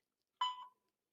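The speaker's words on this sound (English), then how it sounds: "The call will start at the beep." One brief electronic beep marking the start of a phone call, clear and isolated in silence, slightly falling in pitch as it fades.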